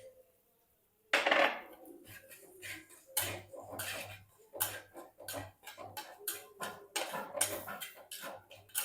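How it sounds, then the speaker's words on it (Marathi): Spatula scraping and tapping in a pan while sautéing coconut and cumin paste for tomato saar: quiet at first, then a rapid series of close, clattering metallic strokes. "आता आपण ह्याच्यामध्ये खोबरं घालून घेऊयात"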